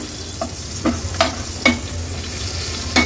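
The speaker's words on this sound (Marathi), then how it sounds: "2 टेबलस्पून आपण हा घरचा आगरी कोळी मसाला घेणार आहोत, तो देखील तेलावर छान परतून घ्यायचंय" Homemade Agri Koli masala and turmeric sizzle in hot oil over a high flame, a constant crackling hiss punctuated by a handful of sharp spatula scrapes spaced about half a second apart.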